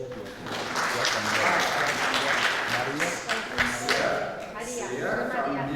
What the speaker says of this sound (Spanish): Unos aplausos.